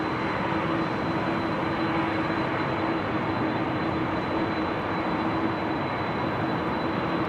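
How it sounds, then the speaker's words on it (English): Steady, broad roar of an Airbus A330 airliner on the move at Amsterdam Schiphol Airport on a windy, showery day, constant and fairly loud with a faint whine running through it, no voices. "You might also be picking up the sound of an A330. That would be this one on the move."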